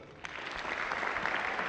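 Applause rises from a concert audience as a band member is introduced, starting thin and swelling into a full, steady round of clapping.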